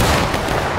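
A dense musket volley crashes out during a black-powder skirmish game, a loud, continuous burst of overlapping shots filling the whole moment with no voices.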